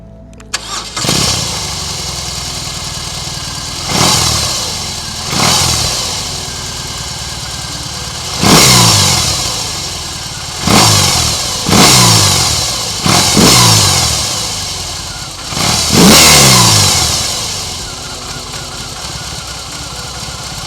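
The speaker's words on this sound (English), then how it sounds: "first let's listen to the exhaust note" A BMW R18 1800cc boxer-twin cruiser motorcycle engine starts and then revs repeatedly, several loud throttle blips rising and falling over a steady, close idle, with no talking.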